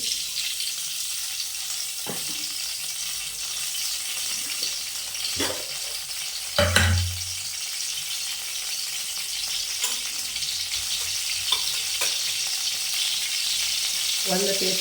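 Spices frying in two spoons of hot oil on a stove turned up high, a constant loud sizzle with scattered clicks and a thump of a utensil partway through, no talking.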